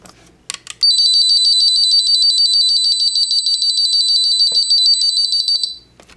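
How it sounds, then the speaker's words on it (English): A ZTE WeGo kids' cell phone alarm blares a loud, high, steady electronic tone for about five seconds after a few soft clicks, then cuts off abruptly. "So I'll do a quick demo of the alarm next."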